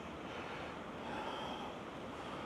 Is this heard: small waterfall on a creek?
yes